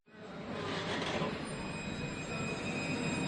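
A tram rolls past nearby with a steady rumbling roar and faint high wheel squeal, rising quickly at the start and holding loud for a few seconds.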